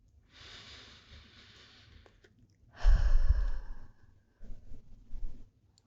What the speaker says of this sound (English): Take a couple deep breaths with me.